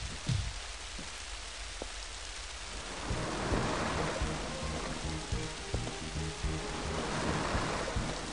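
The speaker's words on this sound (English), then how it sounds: "We're currently experiencing a thunderstorm." Thunderstorm in the video game Twinsen's Odyssey: a sharp thunder crack opens, then steady heavy rain with dripping and splashing fills the scene, loud and continuous.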